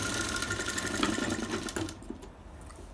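A sewing machine runs steadily while stitching a bridal sharara, its rapid mechanical whir continuing for a couple of seconds before slowing and fading to a quieter stop.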